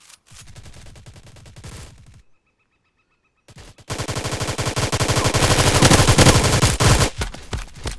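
Rapid automatic gunfire bursts in the online shooter Polywar, loud and close, with a short pause of near silence before a longer, heavier volley of sustained shots.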